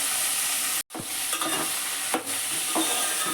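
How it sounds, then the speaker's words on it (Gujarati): Onion greens with salt and turmeric cooking in oil, a continuous close sizzle broken by scraping stirs, with a brief dropout early on and no voices. "હવે છે ને આપણે એને તેલમાં ચડવા દેવાનું"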